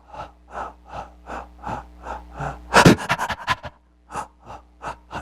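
A voice imitates the clustered breathing of a patient with a brainstem injury from head trauma: a run of rhythmic panting breaths, a sharp gasping burst mid-clip, then the regular breaths resume, close and loud with no talk.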